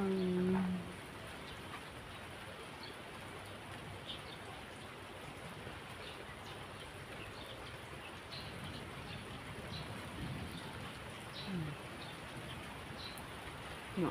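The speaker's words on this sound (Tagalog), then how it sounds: "Ulan na naman." Afternoon rain falls steadily outside a house, a constant soft hiss of drops on surfaces that carries on evenly throughout, with a faint brief voice near the start.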